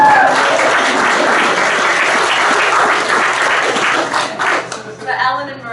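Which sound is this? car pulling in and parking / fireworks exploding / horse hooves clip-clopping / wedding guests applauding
wedding guests applauding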